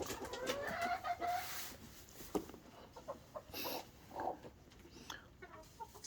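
A broody hen in a nesting box clucks softly and intermittently nearby in winter, with low murmuring calls and occasional rustling in an otherwise quiet space.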